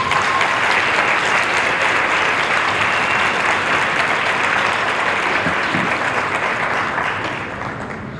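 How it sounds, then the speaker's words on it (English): Sustained, dense applause from a large audience at a Jack & Jill cotillion ceremony, loud and continuous before fading slightly at the end. "let's give them another round of applause"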